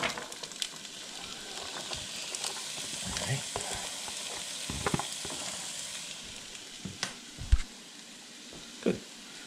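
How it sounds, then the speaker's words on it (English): Celery and onions sizzle and fry in a pan for clam chowder, a steady close crackle with occasional stirring scrapes and clatters. "So you want to saute those onions and celery until they get nice and translucent and soft"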